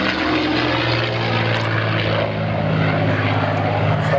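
A P-51 Mustang warbird at the Warbirds Downunder 2011 airshow, its piston engine and propeller droning loud and steady as it flies past, with no talking.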